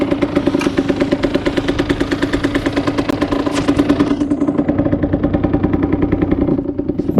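A Derbi Senda 50cc two-stroke motorcycle engine runs steadily at close range, a fast buzzing idle with rhythmic mechanical clatter that continues without a break and eases slightly toward the end.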